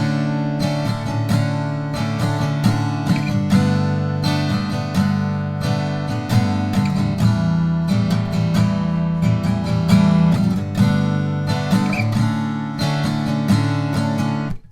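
Strummed acoustic guitar chords carry the pre-chorus of a song, dense even strokes sounding close and full throughout, with no talking.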